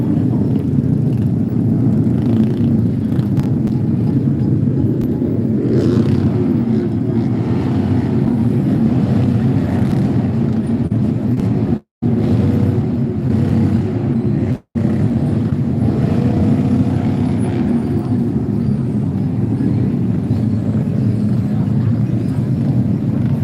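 Dense motorcycle traffic at Anjungan Mangkawani in Kabupaten Soppeng: a continuous, loud drone of many engines that keeps going throughout, broken only by two very short dropouts.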